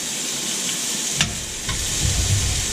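Vegetables and rice for chicken fried rice stir-frying in a cast iron skillet, with a steady loud sizzle and hiss plus a few scraping stirs and a low rumble building toward the end.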